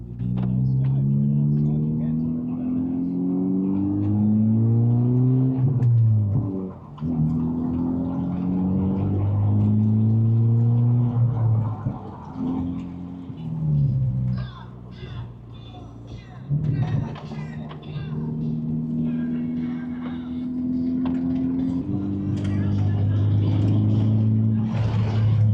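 A 2023 Honda Civic Type R with a manual gearbox pulls hard on turbo boost, its engine note climbing repeatedly through gear changes with brief dips between pulls, loud and close from the cabin, with a voice talking over it.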